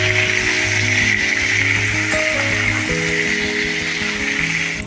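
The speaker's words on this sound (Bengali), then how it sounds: "তুমি জোরে বলবে কিন্তু এই পটল ভাজার আওয়াজে যাতে শোনা যায়।" Pointed gourd (potol) pieces frying in hot oil in a Bengali home kitchen give a steady, loud sizzle that holds almost unchanged from start to end, with no talking.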